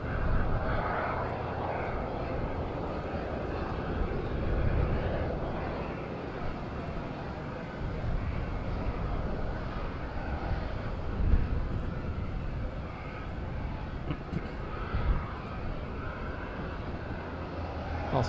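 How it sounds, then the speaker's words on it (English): An EasyJet Airbus A320ceo from Porto approaches Madeira Island Airport, its engines a steady, moderately distant drone swelling and easing slightly, with a voice speaking faintly in the background. "Airbus A320 CEO, EasyJet"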